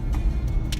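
Inside a car on the road in Mozambique, a low steady rumble of engine and tyre noise fills the cabin, with a few faint higher ticks above it.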